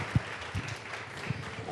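An audience at a conference stage event applauds a sitar musician, a diffuse wash of clapping heard at a distance and fairly soft.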